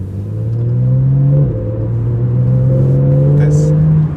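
A Porsche 911 Carrera GTS of the 991.1 generation revs its engine, a loud, steady, close growl that climbs, dips briefly, then holds high before easing off at the end.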